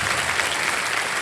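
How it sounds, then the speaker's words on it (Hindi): Studio audience applause on a TV quiz show, a brief burst of dense, even clapping. "ताली बजती है।"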